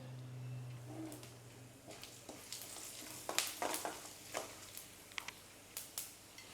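Black pepper and cumin seeds crackle in hot ghee in a pan, a quiet sizzle with scattered sharp pops and stirring ticks that grow busier after the first seconds, close and alone.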